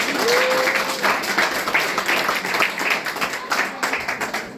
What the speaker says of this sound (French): Je voudrais ce soir que l'on applaudisse très fort pour montrer notre attachement à cette partie.